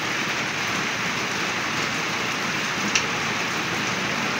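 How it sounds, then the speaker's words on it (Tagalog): Steady rain pours down on surfaces during a rainy morning, a dense, even hiss close by and continuous with no voices. "Nag-start po yung ulan mag-aalas 9 po mga kapiks."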